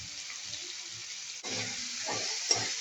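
Ridge gourd fries in a pan with salt, giving a steady close sizzle and hiss, joined midway by soft scraping and stirring strokes and a small clink near the end.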